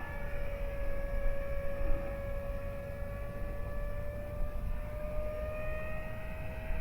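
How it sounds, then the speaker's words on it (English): FMS Futura RC model plane at full throttle, a steady high-pitched motor whine that holds a sustained tone and drifts slightly in pitch as it flies at moderate distance, with no talk. "Let's pick it up. It's full throttle."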